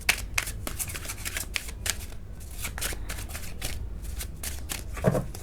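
Tarot cards are shuffled by hand in a quick, continuous riffle of crisp papery flicks, close and steady, with no speech.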